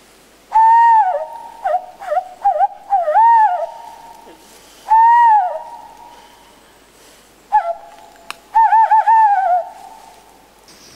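A man imitates a male owl's hoot, giving a run of loud, tremulous calls that rise and fall, in short bursts separated by pauses, with no other voices.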